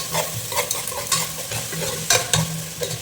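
Garlic is stirred and fried in a pan for Ayila fish curry, with a spoon scraping and clattering repeatedly over a constant close sizzle and no voices.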